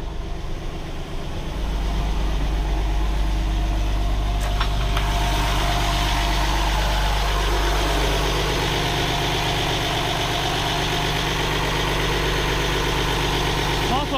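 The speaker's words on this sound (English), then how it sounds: "I'm going to go down and check the engine like I was ordered to." A boat engine runs below deck, a steady low idling drone with mechanical vibration that swells slightly partway through while someone talks nearby.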